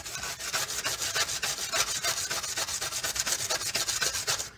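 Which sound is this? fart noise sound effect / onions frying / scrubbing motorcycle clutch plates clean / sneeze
scrubbing motorcycle clutch plates clean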